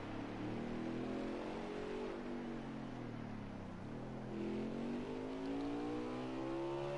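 A race car engine drones in a racing video game at the New Hampshire Roval during an all-star race, a continuous loud buzzing tone that dips as the car slows, then climbs steadily as it accelerates again.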